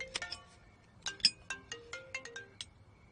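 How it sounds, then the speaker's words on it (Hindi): A mobile phone ringtone plays a quick, bright melodic pattern of short chiming notes in an uneven rhythm, moderately close and alone without talk, in a Hindi-dubbed drama. "मेरा फोन बज रहा है"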